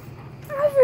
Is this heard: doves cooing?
no